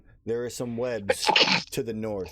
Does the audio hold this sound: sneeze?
yes